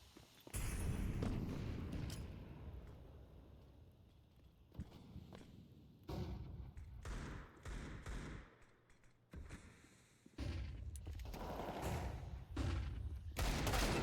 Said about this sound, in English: Shots continue to ring out.